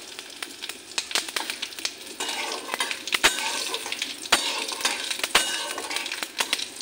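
Dried red chilli, cumin seeds and bay leaf frying in mustard oil, crackling and sizzling close up with sharp pops and utensil clicks scattered throughout.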